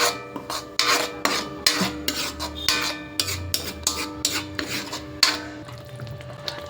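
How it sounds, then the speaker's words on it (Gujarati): Onion and tomato masala with salt sautéing in oil in a pan for a Gujarati vadi curry, heard as repeated scraping and rasping strokes of a spoon against the pan over a faint sizzle, close and steady. "ને આને 2 મિનિટ માટે સાંતળી લઈશ, જેથી ટામેટાની કચાશ પણ થોડી દૂર થઈ જાય અને તેલ થોડું છૂટું પડે."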